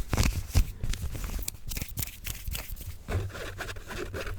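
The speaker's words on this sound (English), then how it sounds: "Do a little bit of fabric scratching as well." Close, crackly scratching and rustling against cloth, in uneven bursts of strokes with brief louder scrapes, no voice.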